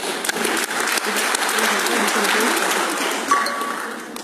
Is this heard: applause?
yes